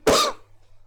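A single sharp cough from an adult lecturer with a cold, loud and close, followed by a faint low room hum.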